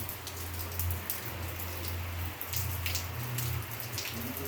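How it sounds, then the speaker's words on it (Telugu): Heavy storm-like rain pours down outdoors, a dense and steady wash of drops striking surfaces, fairly loud and unbroken throughout, with a faint low hum beneath and no voices. "ఫుల్ అయితే వర్షం పడుతుంది బయట"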